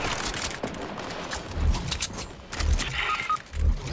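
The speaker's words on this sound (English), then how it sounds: "Assault rifle." Assault rifle gunfire in Fortnite, with short bursts and single cracks landing roughly once a second over a busy game background, fairly close and moderately loud.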